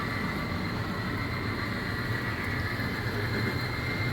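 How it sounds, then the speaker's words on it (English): An N scale model train rumbles past steadily on a layout, a dense low roar with a faint high whine on top, holding even and unbroken throughout. "There's a train now."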